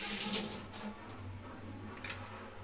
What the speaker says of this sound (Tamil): லேசாக தண்ணி ஊற்றிக்கிங்க, ரொம்ப ஊற்றாதீங்க, லேசாக ஊற்றிக்கிங்க